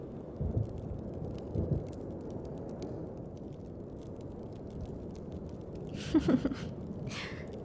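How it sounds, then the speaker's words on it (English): Steady rain falls throughout, a soft continuous patter with a few louder bumps and a brief gasp-like burst near the end. "the sound of the rain probably isn't helping them to stay awake"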